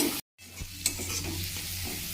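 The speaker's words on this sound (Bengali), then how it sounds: "মশলাটা কষানো হয়ে গেছে" Onion, tomato and spice masala with coriander powder, turmeric and Kashmiri chilli powder being stirred and fried in a pan, with steady sizzling throughout, a scrape and a clatter of the spoon, and no talking.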